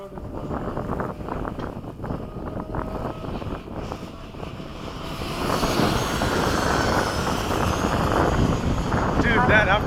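An F/A-18 jet makes a low pass, its broad engine roar rising and swelling in the second half over wind buffeting, while people talk over the noise.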